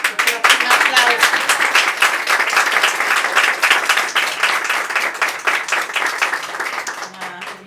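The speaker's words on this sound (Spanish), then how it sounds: "Un aplauso." An audience at a Spanish-language women's political event breaks into applause: dense, lively clapping from many hands, strong at first and slowly thinning toward the end.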